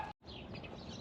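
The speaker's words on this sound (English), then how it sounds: "You hear the birds chirping?" Faint birds chirping in the background over steady outdoor ambience in Santa Fe, with a brief dropout near the start.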